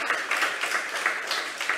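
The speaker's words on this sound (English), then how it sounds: "Please give him a round of applause." An audience applauds Dr. Dilip Dan at an awards ceremony, a brief patter of clapping from a modest crowd, moderately loud and steady throughout.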